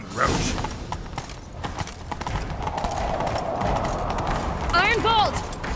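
Hooves of Roach, the horse in The Witcher 3, clip-clop rhythmically at a gallop in close, loud, steady beats, with a brief neigh near the end and game dialogue spoken over the top.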